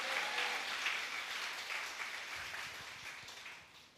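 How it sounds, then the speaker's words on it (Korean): Church congregation at a Sunday worship service clapping together, a faint, distant wash of applause that gradually fades away, with a few low thumps and little speech. "주님께 영광의 박수 올리겠습니다"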